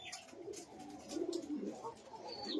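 Rajshahi local Giribaz pigeons in a loft coo in soft, repeated low rolling calls, close and steady, with faint chirps and rustling in the background.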